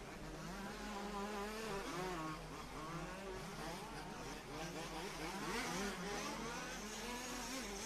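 Large-scale off-road RC car engines buzz and rev at a European championship qualifying race, the pitch rising and falling repeatedly as several small motors whine together at steady loudness.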